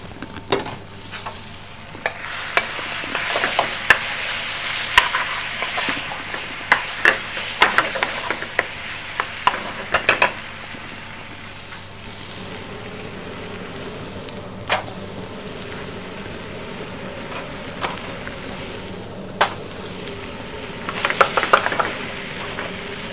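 Saag paneer cooking in a pan in a takeaway kitchen: a continuous sizzle with intermittent scraping stirs and sharp utensil clinks, busier at the start and end and quieter in the middle.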